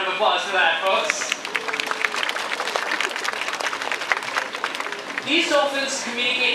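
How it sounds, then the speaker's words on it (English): Audience applause at a Vancouver Aquarium dolphin show, a steady wash of many hands clapping that fills the whole stretch, with a voice speaking briefly at the start and end. "Let's give them a round of applause for that"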